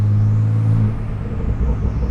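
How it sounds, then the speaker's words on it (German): Turbochargers on a G-Power tuned Porsche 992 Turbo S whir inside the car, a loud steady whine and rumble that eases after the first second. "Also was extrem ist, wie du diese Lader hier hörst."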